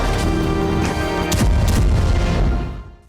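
Explosions from Russian drone strikes in Ukraine, a loud rumbling barrage with several sharp booms around the middle, fading out at the end.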